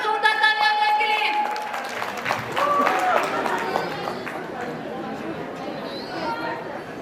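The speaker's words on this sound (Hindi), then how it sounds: "एक बार जोरदार तालियां उनके लिए" Guests at a sangeet ceremony applaud for a family about to perform, a dense sustained patter of clapping that is heavy at first and tapers off, mixed with crowd chatter and music.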